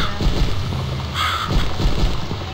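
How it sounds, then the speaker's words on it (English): A crow in The Cat Lady video game caws harshly, a prominent call standing out midway over low ambient game noise. "The crow was talking to us."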